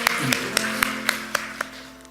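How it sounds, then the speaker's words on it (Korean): A congregation at a Sunday church service gives a short burst of applause, eight evenly spaced claps ringing out over a faint sustained background tone. "우리 주님 앞에 영광의 박수를 드립니다."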